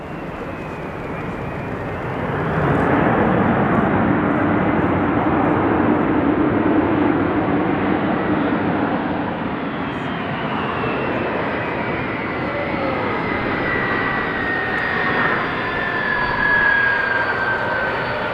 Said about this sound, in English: This Airbus A300 braking as hard as possible, causing smoke to come out of the brakes.